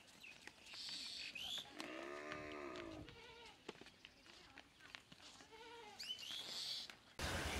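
Dairy cows walking on a Bangladeshi farm let out two drawn-out calls a few seconds apart, over a bed of outdoor noise and voices talking in the background.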